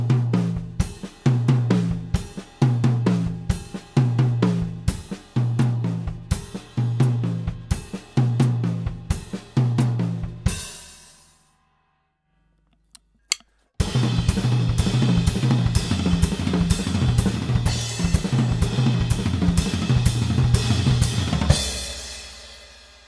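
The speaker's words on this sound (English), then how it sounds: "the double right is going to be accented and played on the second tom" A drum kit plays repeated sextuplet fills across ride, snare, toms and kick, with accented tom notes. The fills come in crisp, rhythmic bursts, break briefly into near silence, then resume with denser playing.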